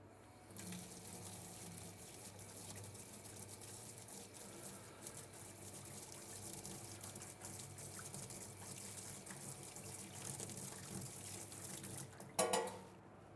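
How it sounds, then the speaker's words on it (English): Tap water runs steadily into a sink while a wire whisk is rinsed under it, a soft continuous splashing and trickle heard faint and close, ending with a brief louder clatter near the close, no talk. "I just need to rinse off my wire whisk."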